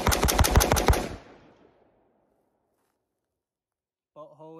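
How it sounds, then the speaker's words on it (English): An AR-15 budget build fired in a rapid magazine dump, about eight loud close shots in quick succession, then a ringing echo fading to silence before a voice begins. "This is my AR-15 budget build, and let's mag dump it to see if it works."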